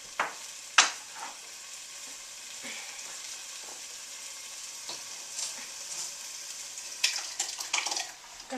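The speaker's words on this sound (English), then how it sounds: "So now my onions are getting golden brown, and I can see through them a little bit. So now I'm going to add my crushed tomatoes." Crushed tomatoes hit golden brown onions in a pan, bringing a soft, steady sizzle with sharp spattering bursts near the start and again toward the end, close and alone.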